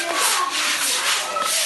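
People scrubbing at a facility for orphans and street kids, a steady broad rubbing and scraping sound that carries on throughout without a break, fairly loud and close.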